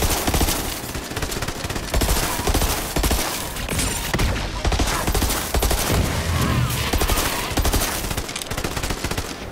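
Heavy rocket launcher fire in Borderlands 3, a loud, dense barrage of repeated blasts and explosions running continuously for the whole stretch, close and punchy.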